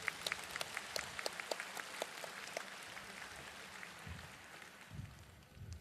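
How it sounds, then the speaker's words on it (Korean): At a Korean Liberation Day union church service, a congregation applauds with scattered clapping that starts brisk and fades into a softer patter, heard at a distance. "다시 한번 72주년 광복절 연합예배를 연합하신 하나님께 영광의"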